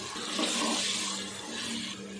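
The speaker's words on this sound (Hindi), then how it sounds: "साथ ही हम पानी भी डाल देते हैं।" Water poured into a cooking pot for potato and red lentil pulao with rice, peas and potatoes, a steady soft rushing pour heard close and fairly quiet, with no talk over it.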